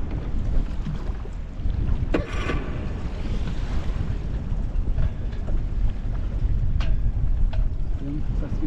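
A sailboat gets underway on the Black Sea after its anchor is raised, with steady wind rush and water wash around the hull, a few knocks and creaks from the boat, and people talking briefly.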